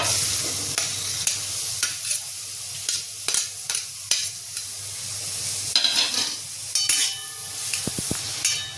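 Chopped onions frying in oil with cumin seeds for egg bhurji, a constant near sizzle broken by repeated sharp spatula scrapes and stirs against the pan.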